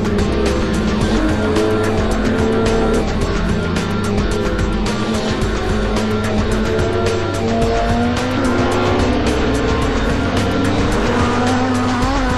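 Chevrolet Lacetti WTCC touring race cars lapping Zandvoort during 2007 qualifying, engines roaring loudly and continuously with shifting pitch and tire squeal as cars pass close by, with no voices.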